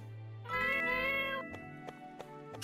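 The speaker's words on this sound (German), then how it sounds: "Streunende Katze." A stray cat in the video game My Time at Portia lets out one drawn-out, clear meow over soft background music, followed by a few light ticking clicks.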